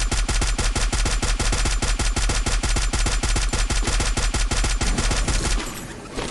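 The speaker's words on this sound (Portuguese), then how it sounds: "Ele tá trocando tiro, na real." Rapid automatic gunfire in a video game rattles in long, dense bursts of shots, loud and close, then drops away into a quieter rumble at the end.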